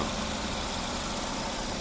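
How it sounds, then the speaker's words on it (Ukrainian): A 2008 Nissan Qashqai+2 with a 2.0 petrol engine idles steadily, a close, even hum with no revving or changes throughout, and nobody speaking. "ось робота двигуна"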